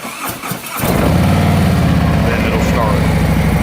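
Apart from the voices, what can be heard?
motorcycle engine starting after stand raised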